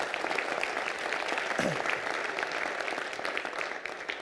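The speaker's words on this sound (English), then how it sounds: "Again, another great round of applause." A crowd at a presidential address gives a round of applause, a dense, steady clatter of many hands lasting several seconds with a brief voice poking through midway.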